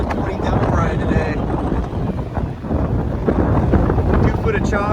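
Strong wind gusting around 30 knots at a marina, roaring steadily across the microphone with a broad, unbroken rush and faint water and boat sounds beneath, close and loud throughout.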